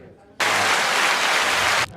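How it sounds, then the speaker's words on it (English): A recovery meeting audience applauds a newcomer: a sudden burst of loud, dense clapping that holds steady for about a second and a half, then stops abruptly. "We applaud that shit."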